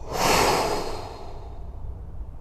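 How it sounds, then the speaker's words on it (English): A full, deep breath drawn in and let out during a home golf fitness workout, one slow, close, airy inhale-exhale that swells and then fades away. "Take a full deep breath in, and a full deep breath out."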